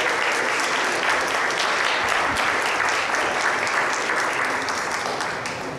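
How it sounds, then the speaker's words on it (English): Sustained audience applause at an Open House For Good event in the Cannes Lions Sustainability Hub, a dense steady clapping from a crowd lasting throughout and easing slightly at the end. "round of applause to you"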